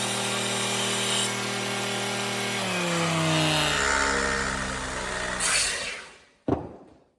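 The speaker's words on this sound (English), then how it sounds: "I go hard and put in a nice initial bevel into this handle to start to shape it correctly." A power tool cuts an initial bevel into a knife handle, giving a loud steady whine that drops in pitch as it bites under load. It then winds down and stops with a short sharp clack at the end.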